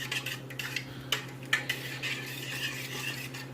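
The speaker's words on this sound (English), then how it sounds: "Stir that up." A utensil stirs food in a bowl, close and fairly quiet, making repeated scraping and clinking strokes over a low steady hum.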